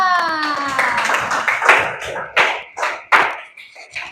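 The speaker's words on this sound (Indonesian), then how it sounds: "Sip, tepuk tangan untuk kita semua." A small audience claps at a morning school session, a few irregular bursts of hand claps fading in and out over a faint voice and harmonic tones.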